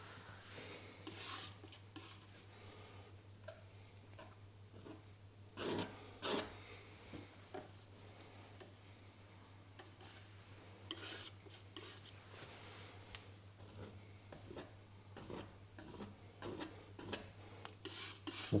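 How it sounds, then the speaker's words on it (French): A palette knife scrapes and rubs oil paint across a canvas during a river landscape painting, giving a run of quiet, repeated rasping strokes at close range with no talking. "Pour soustraire un peu de pâte, vous pouvez gratter."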